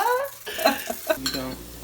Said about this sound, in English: We have some zucchini sauteing in here with some chunks of coconut oil